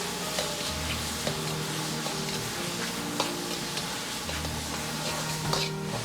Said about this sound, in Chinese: 保持中火煸炒出香味